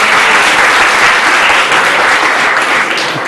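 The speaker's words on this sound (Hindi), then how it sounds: "इनके इस बच्चे के लिए बहुत सारी तालियां हो जाए।" A crowd applauds a child performer who plays tabla and sings on a Sindhi stage show, a loud, continuous wash of clapping that holds steady throughout without voices on top.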